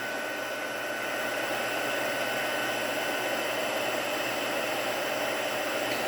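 A heat tool blows steadily while melting embossing powder on a Stampin Up card, a constant, close hot-air whoosh with a fan-like hum and no change in level throughout, with a window fan also running nearby.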